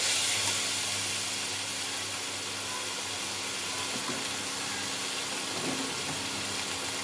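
Meat masala and other spices sautéing for a cauliflower and egg korma, a steady soft sizzle and hiss from the pan running throughout at moderate level, with faint occasional clicks and no talking.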